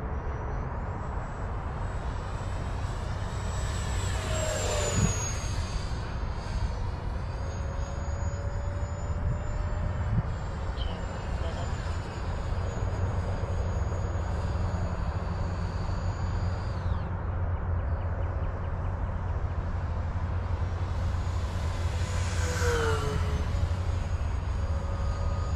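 An RC airplane on a high-voltage LiHV battery makes a wide open pass, its electric motor whining steadily for the whole stretch with pitch sweeps as it nears and recedes, heard from moderate distance against outdoor background noise.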